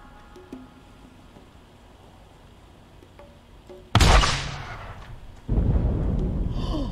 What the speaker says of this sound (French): j'entends au loin l'explosion, c'est trop bien, quoi